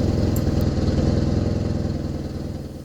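A Kawasaki KZ750 motorcycle engine idles with a loud, close, steady rhythmic chug as its carburetors run out of fuel, the beat holding evenly throughout.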